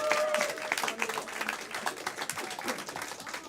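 Audience applause at a live evening event in a venue, a dense spread of many hands clapping at moderate level for a few seconds with some crowd noise, no talk.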